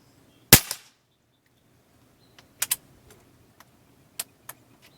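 A customized .22 Benjamin Maximus air rifle fires hobby pellets with one sharp, loud crack, followed by fainter clicks and metallic handling sounds spread over the next few seconds.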